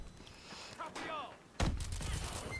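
A sniper rifle shot fired in Call of Duty Advanced Warfare, with an SVO rifle and scope on the Sideshow map: one sharp, heavy report partway through, followed by a sustained rumbling tail, with game sounds and faint chatter before it.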